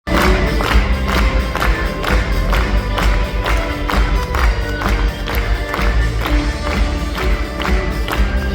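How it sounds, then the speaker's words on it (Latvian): A large festival crowd in Rēzekne breaks into sustained applause, dense rhythmic clapping with scattered cheers, loud and close, carrying on steadily without a pause. "Lūdzu, aplausus."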